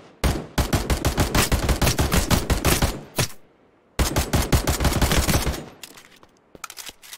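Rapid automatic gunfire in the game Passed Out Prologue, two long sustained bursts of loud, evenly spaced shots separated by a brief pause, then a few scattered single shots trailing off.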